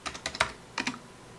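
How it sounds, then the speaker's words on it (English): A password typed on a computer keyboard: a quick burst of light, clicky keystrokes, about eight taps in an uneven rhythm, close and clear with no voices. "This time I'm going to be very careful and type in my password."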